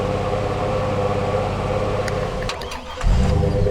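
A pickup truck engine in Farming Simulator runs steadily with a continuous mid-pitched drone, briefly dips, then surges louder as it revs up near the end, with no talking.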